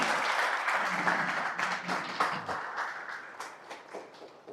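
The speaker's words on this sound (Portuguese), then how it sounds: "Tu pode aplaudir o nome do Senhor?" A church congregation at a Christmas sermon breaks into applause, a full round of clapping that gradually thins into scattered claps toward the end, with murmuring underneath.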